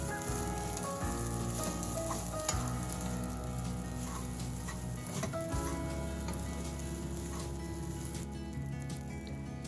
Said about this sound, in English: Using the spatula, break down your rice.